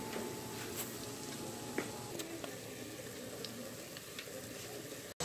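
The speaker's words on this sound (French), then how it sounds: "Voilà les beignets, les boules dans l'huile." Balls of flour doughnut batter fry in hot oil, giving a steady soft sizzle and bubbling with a few faint ticks and pops scattered through it, close and even throughout.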